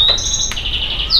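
A male cage bird sings while courting its mate, a loud, close, continuous high whistling trill with a brief chirp midway and a rising note at the end, with no talking.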